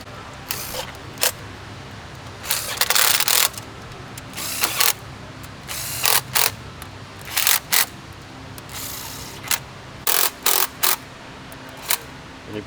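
Ratchet clicking in short bursts while tightening the head bolts on a 2021 Volkswagen Tiguan engine being fitted with a new cylinder head, close and fairly loud, with pauses between strokes.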